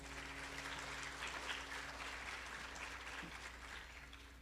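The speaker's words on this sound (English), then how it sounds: "Let's give her another round of applause" Steady applause from an audience at a Bharatanatyam arangetram dance recital, even and continuous but faint and somewhat distant over a low hum.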